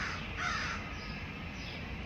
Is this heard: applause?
no